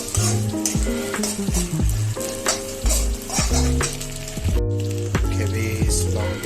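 Egg fried rice with cabbage and long beans being stir-fried in a wok at home, a loud steady sizzle with rhythmic scraping and clanking of the spatula tossing the food, no talking.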